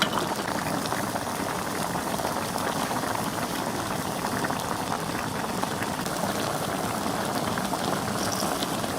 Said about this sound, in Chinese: 少来一点盐、鸡精，小火慢炖个10分钟左右就能出锅了